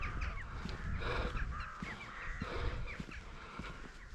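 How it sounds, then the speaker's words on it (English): Crows cawing around a countryside walking route between Salisbury and Winchester, a scatter of harsh calls repeating over a steady outdoor background, fairly distant and not very loud. "There's a lot of crows around here."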